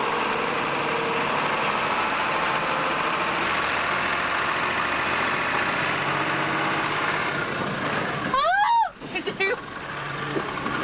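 A vehicle driving through the desert near Kashi, Xinjiang, with a steady broad roar of engine and road noise throughout, then a few sharp, rising whistle-like sounds near the end.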